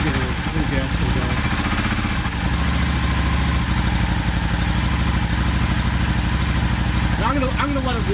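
A Yamaha Star 650 motorcycle with a carburetor problem idles while warming up on choke, a loud steady low rumble close by, with a voice speaking over it.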